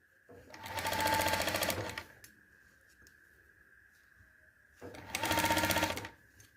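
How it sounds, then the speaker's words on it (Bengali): Two quick bursts of a domestic sewing machine stitching piping onto a neckline, each about a second and a half of rapid, close, rattling needle action separated by a quiet pause with a faint steady tone. "তারপরে দেখো ঠিক এইভাবে আমি আস্তে আস্তে করে সেলাইটা করে আসব।"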